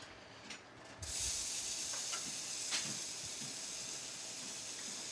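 Pyogo mushrooms sautéing in a pan after marinated beef, a steady soft sizzle and hiss throughout with a couple of faint stirring clicks.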